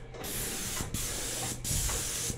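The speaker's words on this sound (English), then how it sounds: "So if I get a little paint on that one when I'm spraying this one, I'm right wet into it" An airless paint sprayer sprays cabinet doors in three close, steady bursts of loud hissing spray, each separated by a brief pause.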